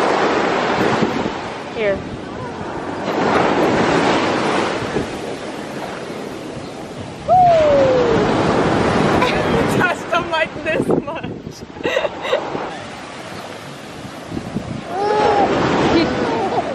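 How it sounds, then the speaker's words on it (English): Ocean waves and swell on a Hawaiian shore surge and wash in repeated broad rushes of surf, with wind buffeting the microphone. People talk over the water. "You gotta wait for a bigger swell."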